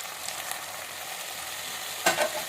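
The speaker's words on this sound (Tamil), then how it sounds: "இப்போ இதோட சேர்த்து நல்லா வதக்கிட்டு தக்காளி சேர்த்துக்கலாம்" Onion mixture sautéing with tomatoes for a pressure-cooker chicken biryani, a steady close sizzle in the pan with a brief louder scrape of stirring near the end, no talking.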